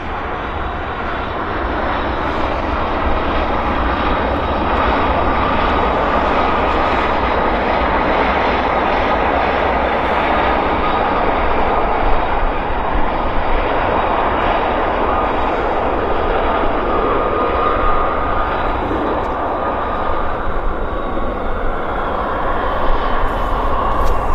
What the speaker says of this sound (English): it is a CRJ landing in front of us, right here